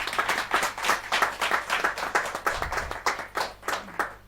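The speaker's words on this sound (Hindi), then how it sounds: "जोरदार तालियां अच्छी बजें।" An audience at a Hindi poetry gathering claps together in a brisk, rhythmic unison beat, loud and fairly close, with a faint low hum underneath.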